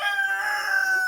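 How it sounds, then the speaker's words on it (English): A big cockerel on a farm keeping rare breed sheep crows once, a loud, close, sustained call with no talking over it. "There's a cockerel saying hello to you there."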